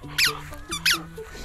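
A squeaky dog toy being squeezed for a husky, two sharp high squeaks with a softer one between, close, over low background hum and faint voice-like tones.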